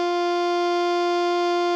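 A single sustained middle D on an alto saxophone, played with the regular fingering and octave key, held steady and clear at even loudness for about two seconds with no talking.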